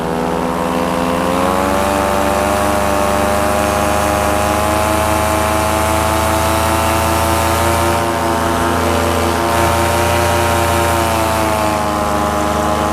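An Air Conception 280 paramotor engine fitted with a 130 cm two-blade propeller drones loud and steady up close, a sustained buzzing tone with slight pitch shifts throughout.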